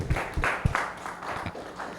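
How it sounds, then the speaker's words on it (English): An audience gives another round of applause for a guest speaker at a leadership talk, a faint, scattered clatter of claps with a few heavier thumps, fading gradually. "give Doctor another round of applause,"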